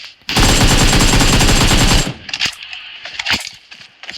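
Rapid automatic gunfire in the mobile game BGMI (PUBG) rattles loud and close in a dense burst lasting about two seconds, followed by scattered quieter shots and clatter.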